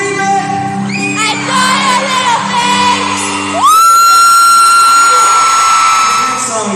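Concert fans scream and whoop loudly in a dense, sustained roar, with a shrill peak partway through.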